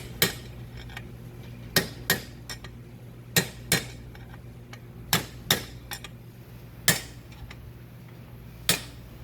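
A hammer strikes an OTC tool to knock the lower steering head bearing race out of a motorcycle. About a dozen sharp metallic clanks come at irregular intervals, close and ringing, over a faint background hum.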